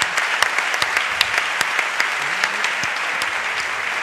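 Audience applause at a live radio show recorded in Bilbao, close, dense clapping with distinct sharp individual claps standing out over the steady wash for about four seconds.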